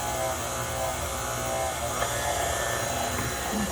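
Electric mixer beating vanilla sponge cake batter, a steady close buzzing whir running unbroken throughout at an even level.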